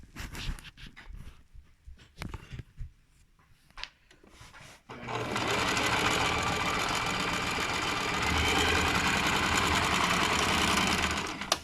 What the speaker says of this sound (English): So then I've done my nice top stitching.